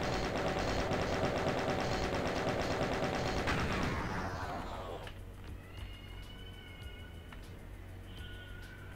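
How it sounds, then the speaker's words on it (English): Chain gun fire in a Doom mod: a loud, fast rattling stream of shots for about four seconds that cuts off, leaving quieter game ambience with scattered clicks and faint cries. "Take the chain gun, this guy."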